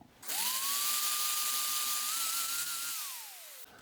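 A single high-pitched drill whines for about three seconds while drilling apart a Dinky Toys No. 111 Triumph TR2 die-cast model, its pitch rising slightly before winding down, loud and close against a quiet background.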